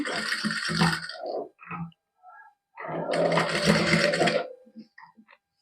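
A sewing machine stitches lace onto a dupatta in rattling bursts: a short run, a few brief stutters, then a longer steady run that tapers into small clicks.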